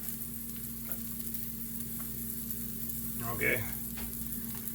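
Bite-sized pork chop pieces for pork fried rice sizzle steadily in a pan, a continuous close frying hiss with a short spoken word partway through.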